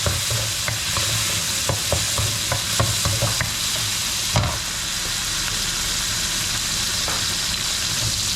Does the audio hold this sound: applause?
no